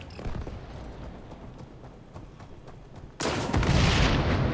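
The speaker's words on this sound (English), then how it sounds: "Oh, yeah, them shotguns are one hit, I think." Shotgun blasts in the shooter XDefiant, with several fairly close booming shots early on, then a sudden louder, dense burst of gunfire and noise that runs to the end.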